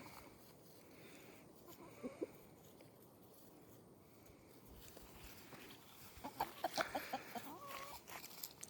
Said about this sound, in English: These are called dung fowl, or rat chickens.